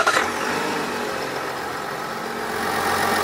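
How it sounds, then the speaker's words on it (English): A 2020 Chevy diesel truck engine catches with a brief burst at the start, then settles into a steady, fairly quiet, even idle that runs on alone without talk. "let's crank up this motor"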